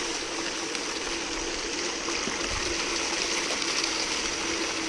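Water rushes continuously through a gold sluice outdoors, a steady broadband wash of flowing water with no pauses.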